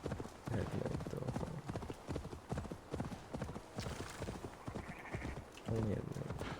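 Horse hooves clip-clop in a steady, brisk rhythm while riding in the video game Assassin's Creed Valhalla. The hoofbeats run throughout under continuous talking, with a brief whinny.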